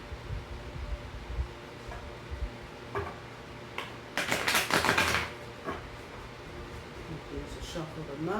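Quick bursts of riffling cards, one dense flurry in the middle with lighter taps and clicks around it, close to the microphone.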